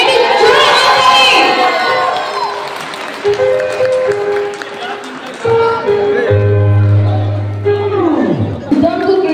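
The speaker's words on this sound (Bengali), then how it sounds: "একটু জোরে হাততালি" An audience applauds and cheers at a cricket tournament prize distribution during a company meet-up, with loud clapping, shouting children and crowd noise, and a sustained musical tone swelling underneath.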